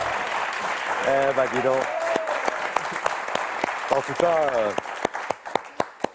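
A studio audience at a French game show applauds with steady dense clapping, while a host talks over it, the clapping thinning to scattered individual claps at the end.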